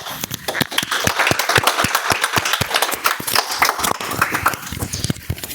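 An audience at a club meeting applauds with dense, steady clapping for several seconds. The claps are close and loud, with no talk over them.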